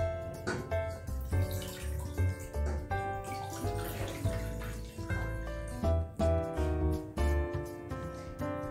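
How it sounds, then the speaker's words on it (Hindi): One cup of water is poured while making a quick herbal tea, a close splashing and trickling stream with faint background music underneath. "हम लेंगे अपना 1 कप वाटर।"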